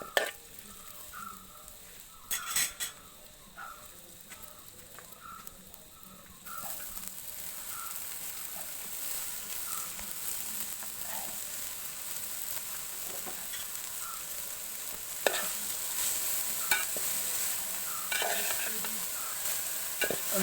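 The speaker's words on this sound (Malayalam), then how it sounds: "നമ്മുടെ മുരിങ്ങാപ്പൂവ് ഇതിലോട്ട് ഇടാം." Drumstick flowers stir-frying with onion and chilies for a Kerala thoran, a soft steady sizzle with intermittent spatula clicks that grows louder and denser partway through, with no speech.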